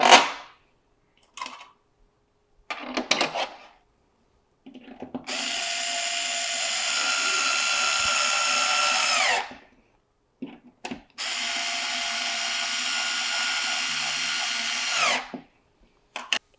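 Power screwdriver tightening screws while repairing a SNOO smart bassinet's O-rings, two long steady whirring runs close by, separated by brief clicks and handling noises.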